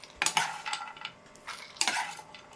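Green chilies and lentils stirred in a pan for chutney, with soft scraping strokes and light frying sizzle coming in a few short bursts, close and fairly quiet, with no talk.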